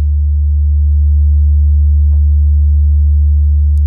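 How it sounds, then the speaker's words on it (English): A steady, loud low hum from a pure synthesizer sine wave tone holds unchanged throughout, with a couple of tiny clicks and no voices. "Hear the sine wave faintly."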